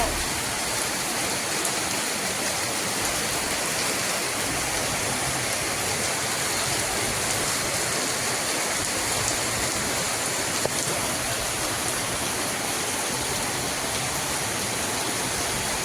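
Heavy rain pours down during an Onam evening, a dense, constant hiss of water filling the whole scene evenly without pause or voices.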